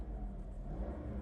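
A 2003 Mercedes-Benz SL500 V8 idles steadily at close range, a smooth low rumble with a faint whir on top, unbroken and with no voices.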